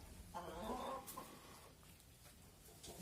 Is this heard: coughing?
no